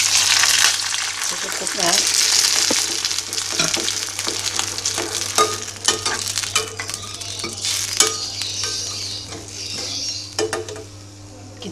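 Water goes into a hot pot of stir-fried luffa gourd (oyong) with sweet corn and glass noodles, setting off a loud, steady sizzling hiss with stirring clatter. Someone briefly speaks over it.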